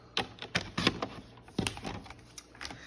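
Card stock for a card base being cut on a paper trimmer, a series of quiet sharp clicks and short sliding swipes in an uneven rhythm, close and faint.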